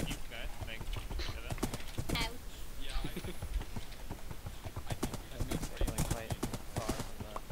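Rapid clip-clop of horse hooves in a video game, galloping rhythmically under overlapping chatter from several players.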